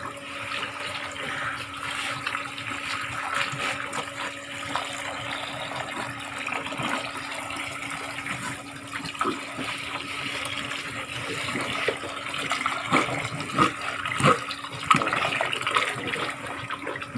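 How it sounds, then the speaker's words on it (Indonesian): Fattening cattle drinking well water and eating mixed feed: steady wet slurping and splashing with a constant low hum, interrupted by sloppier gulps and louder sucks, close up. "Dia begitu rakus makan dan sekaligus minum."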